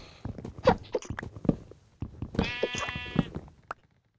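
A sheep in Minecraft bleats in one long wavering call, close and clear, following a run of soft footsteps and blocky game thuds.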